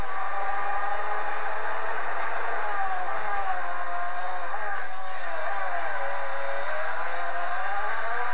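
A car engine in Gran Turismo 4 revs and holds a steady, buzzy drone, with the pitch sweeping up and down through gear changes. It sounds loud and continuous over a flat, band-limited game mix.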